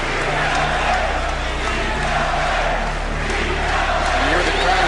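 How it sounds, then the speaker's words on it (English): Crowd at the Boston Garden chanting "Beat LA" after the 76ers game: a massed, dense roar of voices in a steady pounding rhythm that fills the arena, with a narrator talking over it. "From the Boston crowd comes a ceaseless pounding chant."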